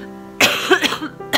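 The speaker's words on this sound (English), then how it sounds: "however my cough is worse." A single harsh cough bursts out close by, followed by a few smaller rasping coughs and then another sharp one at the end.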